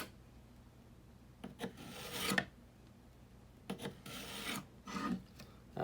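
A knife is drawn through a Work Sharp Pivot sharpener, giving several quiet, gritty rasping strokes of about half a second each, with short pauses between them.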